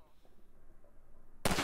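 A single loud rifle shot fired at a latch in Half-Life 2 Episode One, cracking suddenly near the end after quiet, low ambient game noise.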